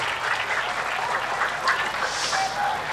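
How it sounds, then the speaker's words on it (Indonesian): An audience at a Quran memorisation demonstration and celebration applauds performers taking the stage, a steady, moderately distant wash of many hands clapping throughout. "Berikan tepuk tangan dulu untuk para teman-teman."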